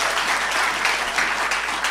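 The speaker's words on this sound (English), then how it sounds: "Everybody, please give them a round of applause." An audience in a lecture hall at a Bible talks conference gives speakers a round of applause. A brief, even burst of many hands clapping, fairly close and steady, with no talk over it.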